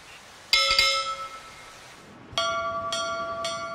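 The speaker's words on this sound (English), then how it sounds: "And this is the actual bell from the bounty. And by ringing it, we can actually hear what the ship sounded like." The actual ship's bell from HMS Bounty is rung several times: a loud bright strike with a long ringing decay, then after a pause three more evenly spaced clangs, each sustaining clear metallic overtones.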